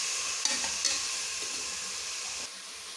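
Onions fry steadily in a hot pan with a dense, continuous sizzle, broken by a few brief scrapes and clicks of stirring. No one speaks.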